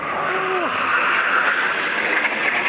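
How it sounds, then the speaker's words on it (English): A loud, rushing jet roar from a Kenya Air Force military aircraft passing close overhead during a flyby rehearsal, sustained and intense throughout. "And then the flyby is repeated."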